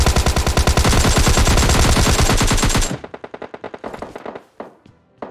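Rapid automatic gunfire in PUBG Mobile Lite, a loud, dense burst of shots for about three seconds that then breaks into scattered, fading single shots and echoing impacts.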